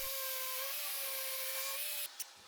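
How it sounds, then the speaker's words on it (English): A power sander whines steadily and close against a wooden Adirondack chair being smoothed, a high hum with a faint tonal drone that cuts off near the end. "and then I sand it all smooth."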